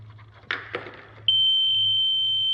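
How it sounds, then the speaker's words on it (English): An Arduino pill dispenser's buzzer alarm starts suddenly after a couple of soft clicks and handling noises, then holds a loud, steady, piercing electronic tone close by over a low background hum. "it will alert the patient that it is time to take your medication through the buzzer and the LED"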